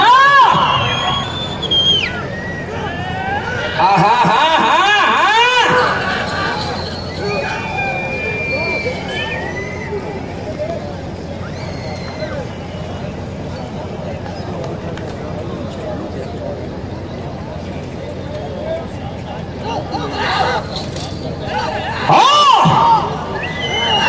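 Spectators at an Ongole bull-pulling race whistle and shout, with shrill whistles and loud cheering swelling near the start and again near the end over a constant crowd murmur and scattered voices.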